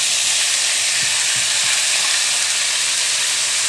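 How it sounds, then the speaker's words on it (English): Chopped venison heart, a very lean meat, sizzling loudly in a preheated skillet, a steady dense frying hiss with faint stirring underneath, close and continuous. "we're gonna add our chopped up venison heart. Got our skillet preheated."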